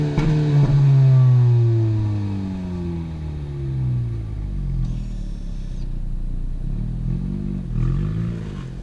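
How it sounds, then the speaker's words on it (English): A 2018 Honda Civic Si sedan in sport mode revs loudly at first, its exhaust tone falling away as the engine settles, then gives a few shorter blips near the end, heard close with no talking. "When you put it in sport mode, you can really rip on it and kind of hear that exhaust tone."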